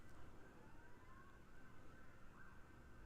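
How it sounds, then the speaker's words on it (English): Faint, distant wail of emergency sirens drifting over a steady background hum on a December day, continuous and far off, with no talking. "Oh, you hear sirens?"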